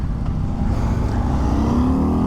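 A Harley-Davidson Sportster S accelerates hard nearby, its engine roaring with a rising pitch over the steady rumble and wind of riding alongside on the road.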